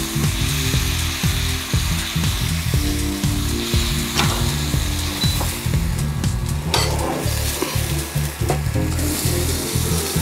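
Beef stir-frying in a hot wok, a loud dense sizzle throughout with rhythmic scraping and clattering of a utensil against the pan, no speech.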